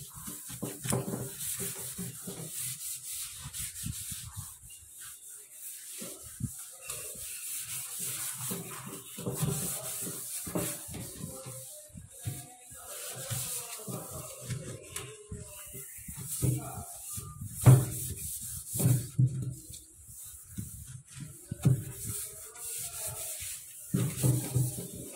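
A scrubber is rubbed back and forth over a steel kitchen sink coated with shampoo, giving close, continuous gritty scrubbing in uneven strokes under a faint background hiss.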